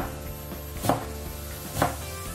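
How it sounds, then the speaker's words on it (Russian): A large carrot sliced into thin julienne strips on a board, with two distinct knife chops standing out over a steady background hum. "Одну большую морковь нарезаем мелкой соломкой."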